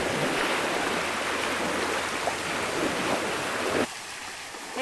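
Water rushes steadily from a flowing spring pipe at a wading spot near a dinghy anchorage in Langkawi, Malaysia, a loud continuous splashing wash that cuts off abruptly near the end.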